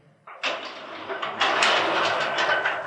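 A garage door fitted with a torsion spring is lifted by hand, starting with a clunk and then rolling upward with a steady, loud rumbling rattle of rollers in the track.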